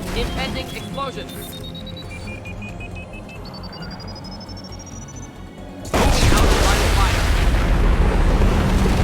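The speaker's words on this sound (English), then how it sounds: "Impending explosion." An explosion in Mass Effect 2 Legendary Edition, with rising electronic beeps over a low rumble that break into a loud, sustained roaring blast, and a voice talking underneath.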